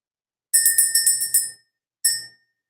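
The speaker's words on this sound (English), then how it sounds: "let's ring the bell." A bell rings in a quick burst of about six rapid strikes, then a single ring after a short pause, clear and close with no talking.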